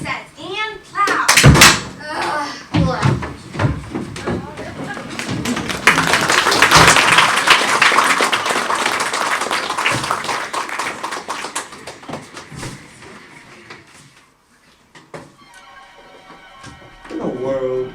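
A drama ensemble on stage claps together, with several sharp bursts of clapping near the start followed by a loud sustained stretch of mixed voices and applause-like noise that fades before a quieter passage.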